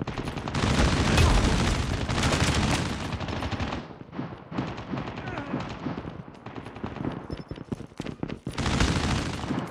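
Weapon fire in a shooter video game, dense rapid automatic bursts loud and close, a sustained volley, then a quieter stretch of scattered shots before another heavy burst.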